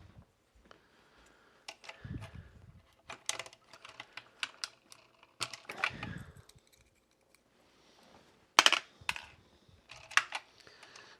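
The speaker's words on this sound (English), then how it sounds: "I can separate out the springs and the keys before I wash them all." Keycaps and springs pulled off a Commodore PET computer keyboard, a close, irregular series of plastic clicks, taps and light rattles with quiet pauses between them.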